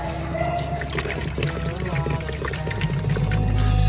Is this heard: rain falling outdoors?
no